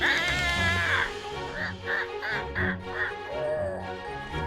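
A bird in the farming game My Time at Sandrock quacks in a quick, regular series of nasal calls over a low, steady game backdrop.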